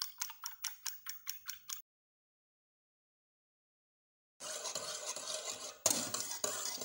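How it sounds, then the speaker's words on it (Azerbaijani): An egg is beaten and added to milk for doner bread dough: a quick run of about eight crisp, even whisk taps against a bowl, then a pause and a rougher swishing and scraping that continues to the end. "Əvvəlcə bir qədər çırpıb südün içərisinə əlavə edirəm."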